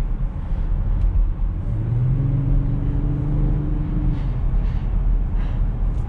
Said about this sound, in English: that engine sounds pretty good